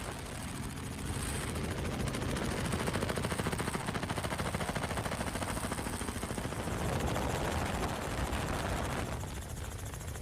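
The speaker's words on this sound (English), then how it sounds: "It's just helicopter whirring." Continuous rapid chopping whir of a helicopter, steady and fairly loud throughout, with dense rhythmic thumping and no voices.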